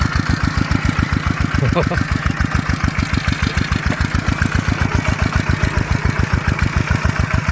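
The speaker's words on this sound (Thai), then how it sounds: "ลงได้เฉพาะรถไถนาเดินตามอันนี้คาด" A small single-cylinder walk-behind tractor engine chugs steadily in a fast, even rhythm, loud and close, running continuously throughout.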